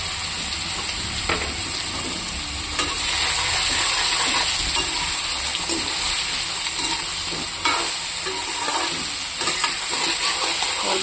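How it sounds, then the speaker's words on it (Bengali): Soybean chunks fry in hot oil in a pan, a loud continuous sizzle and hiss with occasional stirring scrapes, no voices. "সয়াবিনটা এখন আমি ভাজা করে নেব।"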